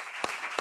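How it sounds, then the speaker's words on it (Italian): Short burst of applause for Don Gigi during an Italian gathering with a band, broadband clapping steady across the moment with two brief louder claps standing out. "facciamo un applauso a Don Gigi"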